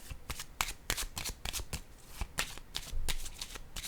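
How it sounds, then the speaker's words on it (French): Tarot cards are handled and laid down close up, a rapid series of crisp papery flicks and slaps in an irregular rhythm, alone without talk. "Je vais déposer aussi une carte sur l'équilibre à l'envers."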